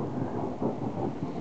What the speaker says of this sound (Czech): tohle to byl hromek